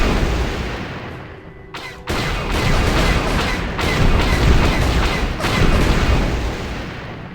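Turret cannon fire from a gunner seat in the video game Knights of the Old Republic, shooting at incoming fighters: dense, loud bursts of blasting shots roll continuously, with brief gaps, in a busy battle.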